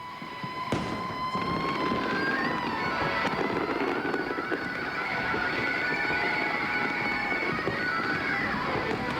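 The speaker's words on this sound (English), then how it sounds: "We're now awaiting the largest firework of all, this massive 16-inch shell, which we're told will spread fireworks over 400 metres." A giant 16-inch fireworks shell bursts at a Millennium 2000 celebration, with a sharp crack followed by a dense, sustained roar and crackle of fireworks and crowd noise throughout, loud and continuous.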